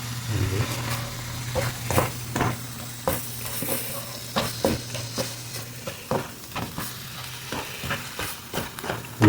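Shredded tuna sizzles steadily in a frying pan on medium heat while a spoon stirs and scrapes through it in irregular bursts, close and fairly loud, with a low hum underneath.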